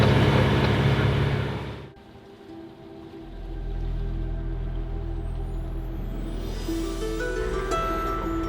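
A sailing boat motoring toward an anchorage in Svalbard, with a steady low engine drone and water wash that drops away briefly and then returns, loud and continuous.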